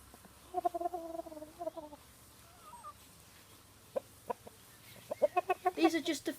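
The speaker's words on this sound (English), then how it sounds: "These are some general comfort calls for other members of the flock." Chickens in a flock give soft comfort calls to one another. A short burst of low, close clucks is followed by a pause, then a few isolated notes, then a quicker run of clucks, all fairly quiet against faint background noise.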